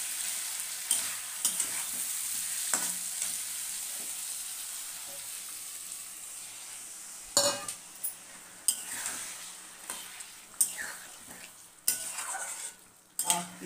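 Phool gobi curry simmers and sizzles in a pan after a splash of water goes in, a steady close frying hiss with occasional scrapes and clinks of a stirring utensil against the pan.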